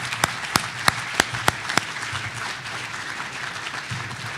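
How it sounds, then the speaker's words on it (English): Audience applause for event volunteers at a geospatial industry talk, with a few sharp, loud claps up front giving way to steady, dense clapping from a sizable crowd that carries on evenly to the end. "Let's give these folks a round of applause"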